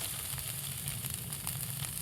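Steady, close sizzling of turmeric and spices frying in oil as a little water goes in, a continuous hiss with faint crackle and no talking.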